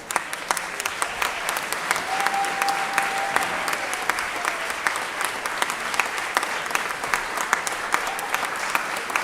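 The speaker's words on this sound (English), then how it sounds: "Let's give him a round of applause." Legislators in a 2024 state legislative session applaud with sustained, moderately loud clapping, with individual sharp claps standing out from the steady wash of the room.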